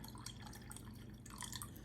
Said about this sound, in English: go in now with your vinegar, and your vinegar have to cover this completely